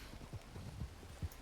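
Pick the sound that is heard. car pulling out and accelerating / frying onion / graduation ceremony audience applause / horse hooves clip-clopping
horse hooves clip-clopping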